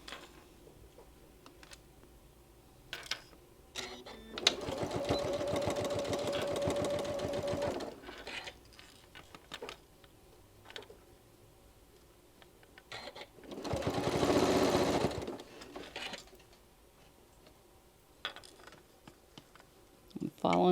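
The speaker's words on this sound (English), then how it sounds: "I'm going to sew all the way around and back tack when I get to the other end" A sewing machine stitching around an oven mitt, two sustained whirring runs of rapid stitching separated by quiet handling clicks and shuffling, close but fairly soft.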